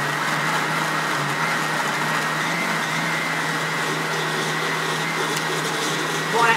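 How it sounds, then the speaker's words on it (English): A steady, loud mechanical whir of a blender running continuously on strawberries, with a constant motor drone and grinding churn throughout. "So this is just strawberries in a blender."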